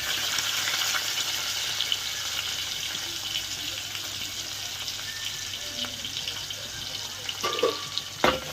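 Onion and curry leaves fry in a pan with a steady, fairly loud hiss and crackle throughout, a few brief clinks and scrapes near the end.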